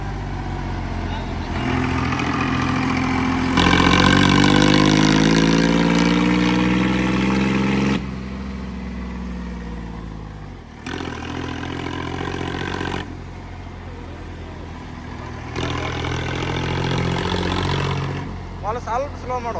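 Two vehicle engines run and fire in a hard-revving session, their pitch sweeping up and down in repeated bursts between brief idle lulls, loud and close, with voices talking over them.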